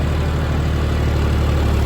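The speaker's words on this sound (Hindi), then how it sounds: "1500 आरपीएम पे ट्रैक्टर चल रहा है पूरा।" A John Deere tractor engine, either a 5405 or a 5210 pulling an 8-foot rotavator, runs at a steady 1500 rpm with a loud, dense, continuous diesel rumble close by. There is no break and no talking.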